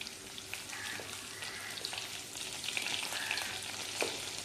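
Curry leaves crackling in hot oil for a bitter gourd tamarind curry: a soft, continuous sizzle with scattered light pops and stirring, close but low in level, no voices.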